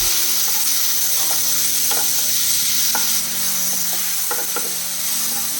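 Ingredients for a Punjabi-style dal tadka sautéing in a pan, with a steady close sizzle and frying hiss throughout and occasional stirring scrapes and clicks of a utensil, no voices.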